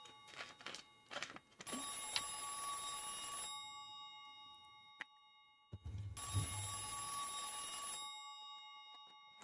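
A telephone rings inside a locker in the horror video game Silent Hill 3, with two long shrill ringing bursts separated by a pause, after a few short clicks at the start.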